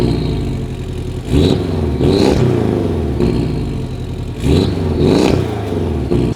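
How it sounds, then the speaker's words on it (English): Turbocharged car with Fab Speed exhaust tips and an intermediate pipe, revved in an exhaust shop: two pairs of sharp, loud blips over a rumbling idle, each with a brief whistling turbo note, close and with no talk. "The car whistles. You hear the turbo whistles."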